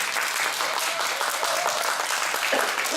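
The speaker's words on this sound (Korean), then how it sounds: "큰 박수로 맞이해 주시기 바랍니다" An audience applauds steadily to welcome a presenter onto the stage at a public-sector HRD contest final, dense, continuous clapping from a large crowd with no gaps.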